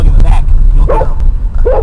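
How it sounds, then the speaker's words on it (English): A dog barks three times in a sound-effects skit, loud and close, with short sharp yaps spaced roughly evenly, each trailing off over a low background rumble. "Listen for my dog in the back. You'll hear him."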